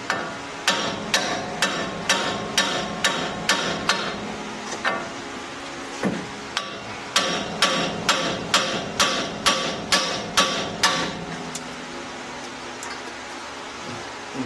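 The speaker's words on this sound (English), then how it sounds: "We're going to take and we're going to hit this knuckle" Repeated hammer blows strike the steering knuckle of a 2006 GMC Sierra 2500 during a lift install, sharp metallic hits in fast rhythmic bursts, close and loud, with a brief pause midway before another run of strikes.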